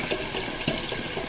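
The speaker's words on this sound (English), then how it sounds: "So I'm going to fill this up with my broth." Vegetable broth pours steadily from a carton into a cooking pot, a brief continuous liquid splash and gurgle heard close and alone.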